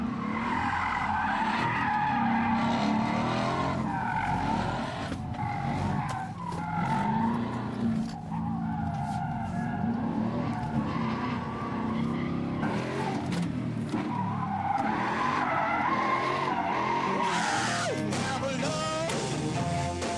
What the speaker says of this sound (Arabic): على الجير الثاني السيارة فيها عزم كتير كبير بتخليها تساعدني اني اقدر اتخطى كل هول الكونات